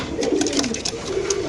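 Racing pigeons (BRPFC racer birds) at a seller's loft coo softly and repeatedly in a low rolling murmur, close by, with faint background rustle.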